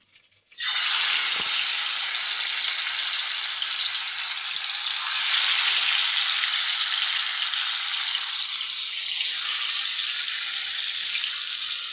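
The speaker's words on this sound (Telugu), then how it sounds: "చూడండి ఎలా ఫ్రై అయింది" Food dropped into a hot pan bursts into a loud, bright, continuous sizzle that holds steady close by for the rest of the stretch.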